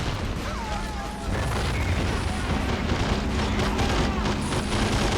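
Mortar and artillery fire in the war game Men of War: Assault Squad 2, with a dense barrage of booms and crashing impacts rumbling continuously in a city battle.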